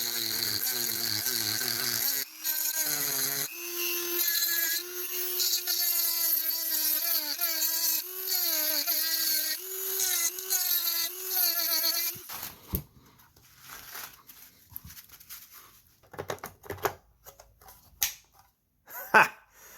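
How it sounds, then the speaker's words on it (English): A small rotary grinding bit whines at a high, wavering pitch while fitting an AK magazine, rising and dipping in bursts for about twelve seconds. Scattered clanks and handling knocks of the metal parts follow. "For this work, I just use one of these little grinding bits."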